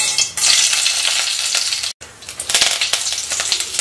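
Mustard seeds crackle and sizzle in hot oil in a pan while tempering for an herbal rasam: dense, loud, steady hissing and popping with a brief drop partway through, with no talking.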